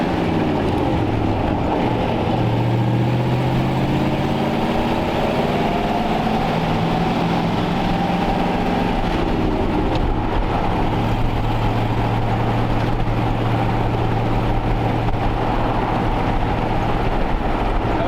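A 1938 Ford Custom with a Columbia two-speed overdrive rear end idles steadily, a continuous low engine drone with shifting tonal hum, close and fairly loud throughout.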